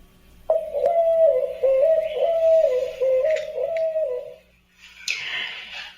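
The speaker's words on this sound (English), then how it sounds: "That's the sound of a white-winged dove sitting at the top of my chimney" A white-winged dove cooing atop a home chimney in Arizona, a close, resonant run of hooting coos lasting several seconds, followed by a brief rustle and a higher chirp.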